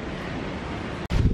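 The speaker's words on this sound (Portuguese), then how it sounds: "veio uma rajada aqui de vento" Strong gust of wind from Hurricane Dorian near Orlando, a loud, continuous roar buffeting the microphone, with a brief cut and then a heavier low rumble at the end.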